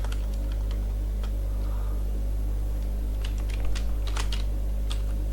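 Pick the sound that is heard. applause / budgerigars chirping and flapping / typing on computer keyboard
typing on computer keyboard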